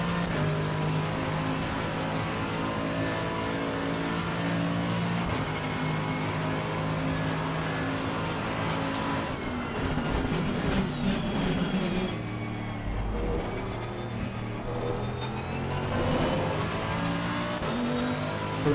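A GT3 race car lapping Monza in Assetto Corsa Competizione, engine droning steadily at high revs, then shifting down with rising and falling pitch and brief tire scrubbing, loud and continuous from the cockpit.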